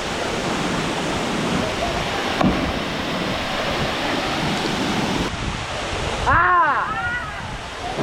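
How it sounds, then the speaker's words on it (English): A big main waterfall in Moalboal, Cebu roars as a steady broadband wash for the whole stretch, with people speaking nearby over it toward the end. "now we just finished at the big main waterfall"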